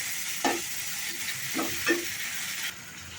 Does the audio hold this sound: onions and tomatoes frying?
yes